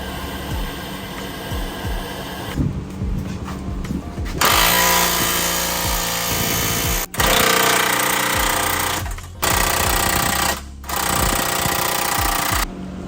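An impact tool hammers at a seized suspension bushing bolt on a lowered Acura TSX wagon, loud harsh bursts in several long runs broken by brief pauses, with no talk.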